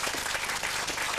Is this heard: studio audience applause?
yes